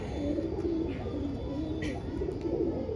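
A pigeon coos softly in low, repeated rolling phrases over about three seconds, close by and alone, with a faint chirp or two in the background.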